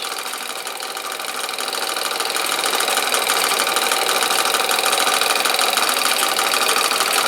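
An enlarged Mamod model steam engine drives workshop line shafts with freshly oiled tools, a steady fast chuffing and whirring rattle that builds in loudness over the first few seconds and then holds even and close, with no speech.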